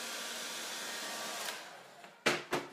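A hair dryer drying paint on a door hanger blows with a steady, close airy whoosh, then cuts off, followed by a couple of short bursts as it is switched on and off.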